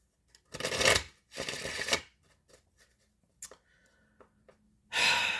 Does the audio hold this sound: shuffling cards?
yes